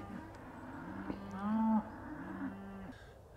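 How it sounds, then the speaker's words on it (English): Cattle in a field moo back and forth, one low drawn-out bellow swelling louder in the middle, with fainter answering moos from farther off against quiet background noise. "They're just going to moo at each other across the field now"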